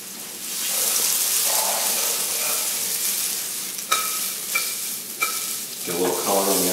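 Onions and peppers sauté over high heat in a pan, a loud steady sizzle broken by a few sharp clacks of a utensil stirring the vegetables, with no one speaking.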